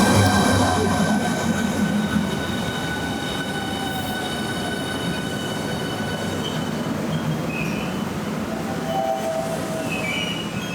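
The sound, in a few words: Class 395 high-speed train passing through Gillingham station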